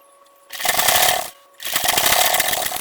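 A sewing machine stitches salwar pants in two bursts of steady, buzzing running, separated by a short pause, close and fairly loud.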